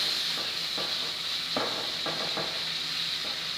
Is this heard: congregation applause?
no